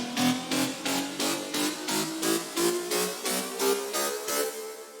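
A jump-up drum and bass drop bass line in FL Studio pulses in a fast, regular rhythm of about a dozen gritty stabs while pitch automation sweeps it upward by an octave over several seconds, played alone without voices.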